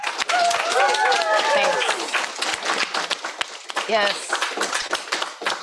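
An audience applauds at the final event of a design class. The clapping is dense and continuous, with voices talking and a short exclamation over it.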